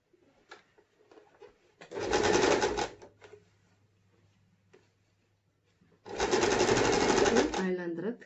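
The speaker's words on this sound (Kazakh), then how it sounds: "Айландыра тігіп шығамыз." Domestic sewing machine stitching a fabric face mask, running in two steady bursts of about a second and about two seconds, close and loud, with quiet handling noises between.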